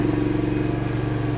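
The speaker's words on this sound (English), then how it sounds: "start it up so you guys can hear how the mower sounds" The engine of a 2023 John Deere Z530R zero turn mower runs at a steady idle, close and continuous, a low even pulsing drone with no talking.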